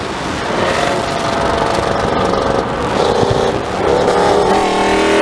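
A car with a 5.7 Hemi V8 and JBA shorty headers runs loud and rough nearby, its deep engine drone swelling and easing slightly as it revs, with no talking over it.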